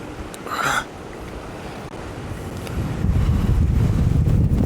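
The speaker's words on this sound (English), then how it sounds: "This wind is crazy." Strong wind buffets the microphone on a lake while crappie fishing from a boat, a continuous loud rumble that swells louder near the end, with waves slapping beneath it.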